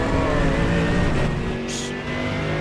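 Race car engine at full throttle in a racing simulator video game, a loud, steady high-pitched whine held throughout with a brief tire squeal near the end.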